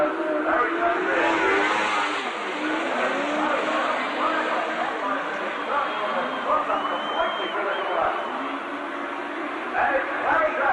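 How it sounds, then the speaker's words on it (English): Speedway sidecar engines roar at the start of an Australian race in the 1980s, a dense, continuous loud motor din with crowd noise, steady throughout with no break. "Chris Wade doesn't start well, but mixing the start there was very good. And round they go."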